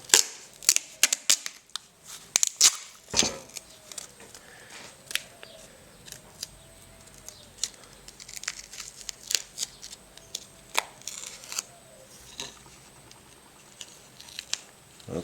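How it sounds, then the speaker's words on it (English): Strong duct tape being pulled and torn during a boat build, giving sharp irregular ripping and crackling bursts, close-up, with a few louder snaps and no talking. "Okay, then we got a piece of duct tape."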